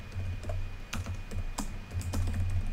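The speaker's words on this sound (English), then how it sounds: "So I'm gonna type print, and then we're gonna type quotation marks" Rapid typing on a computer keyboard while coding a script in Roblox Studio, with clustered, irregular clicks of keys close by, alone over a steady low hum.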